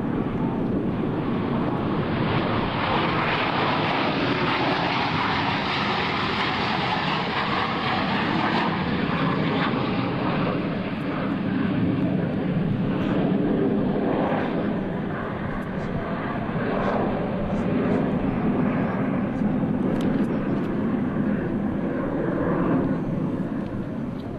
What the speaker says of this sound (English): both aircraft are in the carrier landing configuration as they approach for a maneuver we call the Vortis